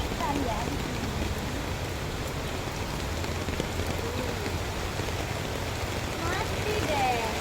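Steady rain falls outdoors beside a switched-off fountain, a dense continuous hiss of drops on surfaces at constant level, with people talking faintly in the background.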